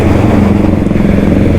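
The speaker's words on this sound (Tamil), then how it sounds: "பிக்கப் பார்த்தீங்களா? ஓ நல்லா இருக்குது வண்டி பிக்கப்லாம்." Rajdoot Excel T motorcycle engine revving under acceleration, a loud, close, continuous buzzing roar with steady rhythm and no talk.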